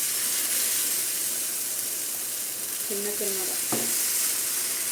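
Dosa batter sizzling on an oiled hot tawa, a steady broadband frying hiss that runs throughout at an even level, with a brief voice joining near the end.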